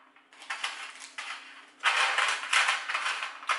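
Pretzels spread out on a baking pan, giving close rattling, clattering scrapes that come in uneven bursts and grow louder in the second half.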